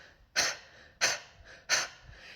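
Three sharp, forceful nasal exhales in an energising breathwork practice, evenly spaced about two-thirds of a second apart, close and breathy with quiet pauses between.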